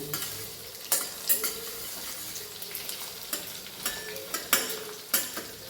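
Onions frying in a pan give a steady sizzle, with repeated scraping stirs and clinks of a utensil breaking the hiss at irregular intervals.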